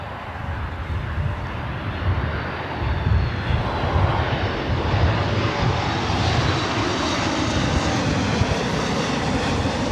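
A SkyWest airliner comes in to land on runway 24 right at LAX, its engines a loud broadband roar that builds and holds steady, with no voices.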